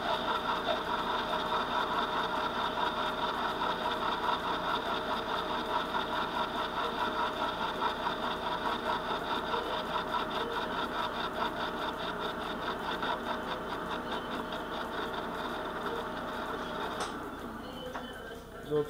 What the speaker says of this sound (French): Donc là, j'usine uniquement avec le petit chariot.